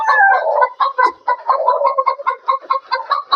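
Fayoumi hens on a large rooftop farm cluck close by in quick, rhythmic bursts, several birds overlapping in a lively, steady chatter with no one speaking.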